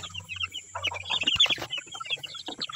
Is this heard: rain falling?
no